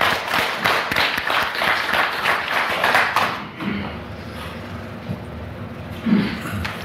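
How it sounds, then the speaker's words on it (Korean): Church congregation applauding together, a dense burst of clapping for a few seconds that then breaks off, leaving a quiet room with faint low hum and scattered thumps. "우리 하나님께 영광의 박수 크게 한번 받겠습니다"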